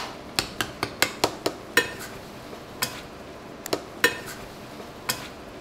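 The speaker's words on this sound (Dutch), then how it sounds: "Je mag de afwas doen, toch?" Dishes are being washed in a kitchen: sharp, irregular clinks and clatters of pots, plates and cutlery ring out over a low steady background, about a dozen distinct knocks spread across several seconds, with no speech.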